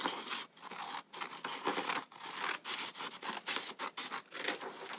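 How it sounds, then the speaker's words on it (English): Scissors slice along a long strip of paper for a snowman popcorn hat craft, a steady run of close, crisp snipping and scraping strokes with brief pauses between cuts. "then I cut the length of my paper"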